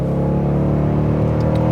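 A Dodge Durango R/T's V8 engine growls in a short, loud, deep rev, the rumble holding steady throughout with no speech over it.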